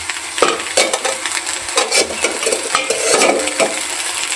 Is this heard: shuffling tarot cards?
no